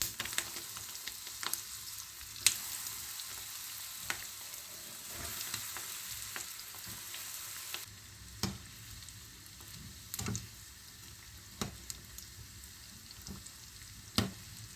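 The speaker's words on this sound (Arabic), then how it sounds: "غادي ندير الزيت سخن وغادي ندوز نقليه" Chicken pieces fry steadily in hot oil for pollo asado, a soft continuous sizzle with scattered crackles and pops, no talking.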